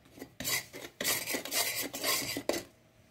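Whole spices, cloves, cardamom pods and cinnamon sticks, roasting dry in a pan, giving a scraping, rattling clatter in repeated bursts as they are moved against the metal, close and fairly loud with brief pauses.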